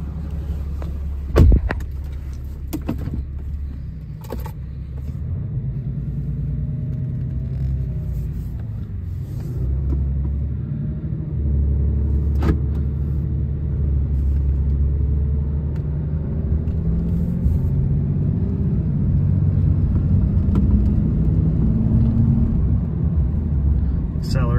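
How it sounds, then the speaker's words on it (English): A 2021 Ram 2500 pickup truck driving along a road, heard from inside as a steady low engine and road rumble that swells slightly as it goes, with a few faint clicks and knocks over the top. "We're going to take this for a drive up and down the road."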